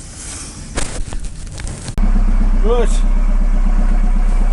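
An engine cranks and fires up, then settles into a loud, steady running drone with a rhythmic pulse, heard close by after a brief spoken word and some handling noise.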